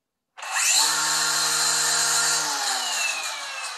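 DeWalt cordless trimmer/blower motor starting up and running steadily at low speed (about 4,600 RPM), a loud, close, continuous whine with a brief rising spin-up at the start.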